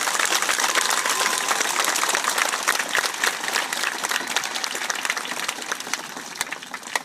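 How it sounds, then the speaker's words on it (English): An audience applauds at the dedication of the Brejcha Learning Lab with loud, dense clapping that keeps going and thins slightly toward the end. "So let's give him a round of applause too."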